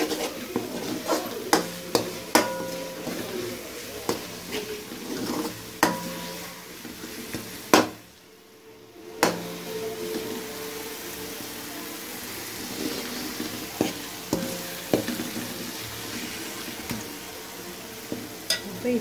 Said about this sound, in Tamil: கிளறி விட்டு